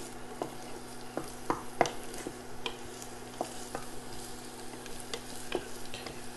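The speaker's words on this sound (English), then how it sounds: "we're just going to bring this up to a little saute" Yellow and red onion sautéing in ghee, a close, even sizzle with a low steady hum underneath and sharp spatula clicks against the pan every second or so.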